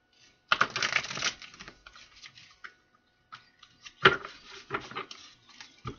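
Cards riffle in a quick fluttering burst, then scattered soft taps and a second riffle follow, close by with no voices.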